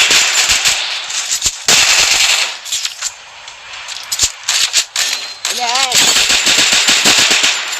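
Rapid automatic gunfire in the mobile battle royale game Free Fire, loud bursts of sharp cracks repeated in clusters with brief gaps, mixed with game effects and a voice talking over it.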